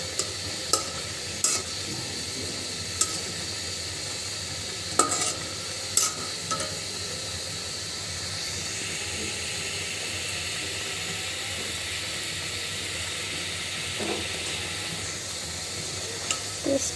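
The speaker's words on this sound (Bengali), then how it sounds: "তো মাছটা দিয়ে দিলাম, দিয়ে খুব ভালো করে মশলার সঙ্গে মেখে নেব।" Rui fish is stirred and mixed with spices in a pan for Bengali fish bhuna, with a steady close sizzle of frying under intermittent scraping and clicking of the spoon against the pan.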